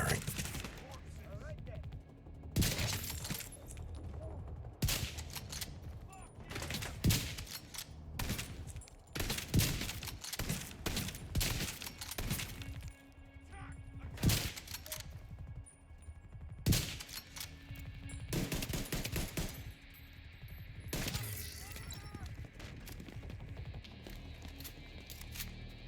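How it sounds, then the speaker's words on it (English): Gunfire from an enemy blind-firing in The Division 2: repeated bursts and single loud shots scattered through the scene, sometimes clustered, over a steady game ambience. "He's blind firing."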